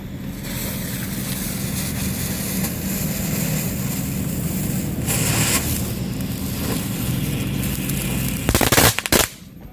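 A rooster firecracker lit outdoors during Ramadan in Indonesia, with a steady rushing background and a burst near the middle, then a cluster of sharp, loud crackling pops just before the end.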